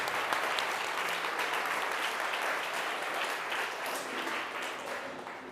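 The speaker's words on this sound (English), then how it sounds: "I want you to stand up, give a round of applause to our fearless leader, Chris Evans." An audience at a business training session breaks into steady, sustained applause that holds evenly for several seconds, dense clapping filling the room with no speech over it.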